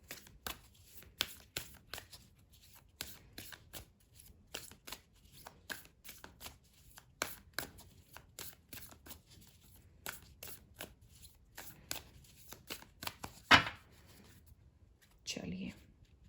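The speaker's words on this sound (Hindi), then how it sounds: "चलिए निकालते हैं कुछ और कार्ड्स" Tarot cards are shuffled and drawn during a reading, producing a steady run of crisp riffling flicks and snaps close by, with a louder card slap near the end and someone speaking softly now and then.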